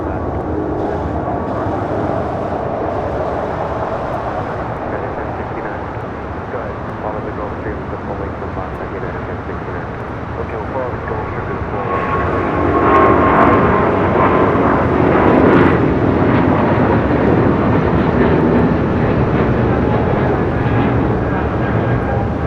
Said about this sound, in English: This is United Airlines 1635 taking off to Washington Dulles on a 777-200ER.